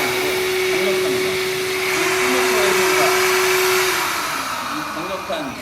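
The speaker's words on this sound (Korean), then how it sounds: "이 강력한 파워브러쉬를 동시에 갖고 있는 세계 유일의 패브릭 청소기라고 보시면 돼요" A PRO-402 fabric vacuum cleaner with a twin-motor power brush runs steadily and loudly throughout, a continuous whining drone with a sustained motor tone.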